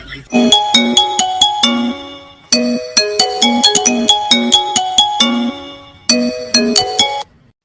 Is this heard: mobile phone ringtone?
yes